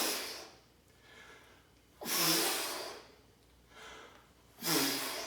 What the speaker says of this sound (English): I'm breathing out, exhaling, as I bring the weight up, as I contract